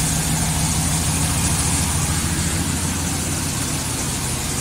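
A mouse-infested marketplace car bought for $2200 idles steadily with a loud, even rumble throughout and no voices.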